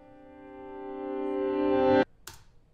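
A grand piano note played in reverse swells steadily louder over about two seconds, then cuts off abruptly, followed by a brief faint click.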